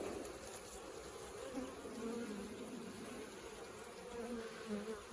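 A dense, steady drone of many honeybees buzzing around an open hive in a sunflower field, continuous and close with a low hum throughout.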